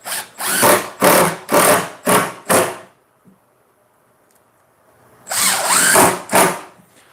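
An impact driver sets screws into the top of a wooden board in short, loud bursts, five quick pulses, a pause of near silence, then three more, up close and with no talk.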